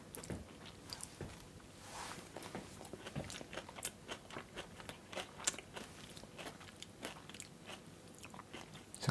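Crisp crunching bites and chewing of a praliné-filled chocolate bar, a steady run of close, quiet crunches repeating through the whole stretch with no talk.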